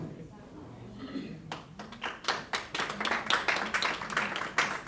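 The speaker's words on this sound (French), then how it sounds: "Vous n'applaudissez même pas fort" Scattered audience clapping at a success seminar, starting after a quiet moment and building into a thin, moderately faint patter of hands while a voice speaks over it.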